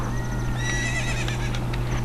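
A horse at Lon Lon Ranch in Zelda: Ocarina of Time gives a clear whinny over a steady low hum and the clatter of hooves, close and fairly loud for about two seconds.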